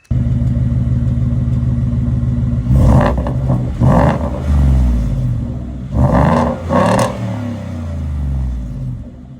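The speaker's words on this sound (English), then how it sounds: "I did the exhaust of my buddy's Coyote, and I'll insert that right here." A Ford Coyote V8 running through its exhaust, with a steady deep idle rumble broken by several sharp revs, loud and close with no talking.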